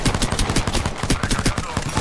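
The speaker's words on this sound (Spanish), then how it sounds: "Estoy recibiendo disparos." Rapid, dense automatic gunfire from the Apex Legends video game, continuous bursts that are loud and near and carry on without pause across the whole stretch.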